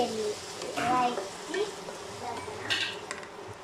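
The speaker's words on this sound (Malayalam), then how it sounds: "അപ്പം ഇത് നന്നായിട്ട് ഇനി വഴറ്റിയെടുക്കണം" Ingredients sautéed with salt in a pan, a close sizzle with scraping and clinks of the stirring utensil against the pan, the sizzle rising and falling while a voice speaks over it.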